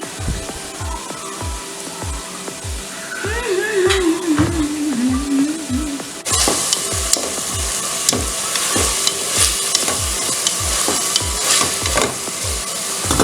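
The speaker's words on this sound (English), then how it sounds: "she's fast frying the tomatoes, onions, and peppers before she puts the okra" Tomatoes, onions and peppers sizzle in a hot pan while a utensil knocks in a steady, quick rhythm; the frying grows louder and brighter halfway through.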